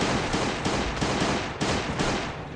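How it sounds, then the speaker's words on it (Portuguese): Rapid bursts of gunfire aimed at zombies inside a bunker in the video game Last Day On Earth, loud sharp shots repeating in quick succession with no talking. "E vou dar uns tiros nesses zumbis chatos aqui."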